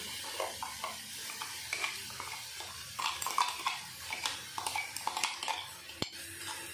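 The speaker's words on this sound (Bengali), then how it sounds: "এখন দিয়ে দেবো বেটে রাখা আদা, জিরে, কাঁচা লঙ্কা আর চীনাবাদাম" A paste of ground ginger, cumin, green chili and peanuts fries in a pan with onion and tomato for a Bengali koi fish kalia, giving a soft steady sizzle broken by repeated scraping and stirring clinks of a spoon against the pan.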